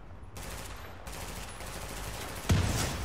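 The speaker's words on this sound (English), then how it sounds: "Shoot the tyres of the cars again." Video game gunfire in The Division, shots aimed at car tyres, heard as a dense, steady spray of shooting throughout with a sharper, louder burst near the end, no talking.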